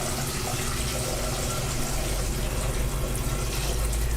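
Steady running water from a tap rinsing out a pot coated in sticky marshmallow residue, a continuous broadband rush filling the clip at an even level with no talk.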